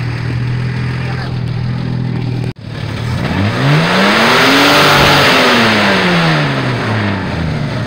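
Car engine fitted with an oversized carburetor, idling loudly before a brief cutout, then revving up and back down in one long sweeping rise and fall, close and continuous.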